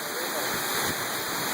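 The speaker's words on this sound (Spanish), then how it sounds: "Nuevamente la cascada de Tuxtlac," The Pixquiac waterfall pours down at the foot of a rock slope with a steady, dense roar, heard up close and without any break.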